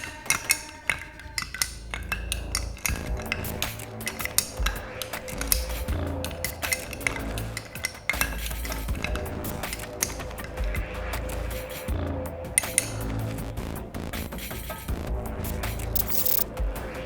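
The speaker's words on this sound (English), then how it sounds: "Mix to chill the cocktail." A bar spoon stirs an Old Fashioned cocktail over a big ice cube in a glass, with continuous close clinking and rattling ice against the glass throughout.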